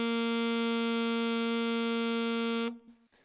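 A sustained low G on an alto saxophone, one steady reedy tone held loud and even for nearly three seconds before cutting off, leaving faint room noise.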